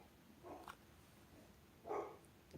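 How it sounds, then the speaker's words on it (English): Dogs bark twice, two short, faint yelps about a second and a half apart against a quiet room background. "my dogs just started barking."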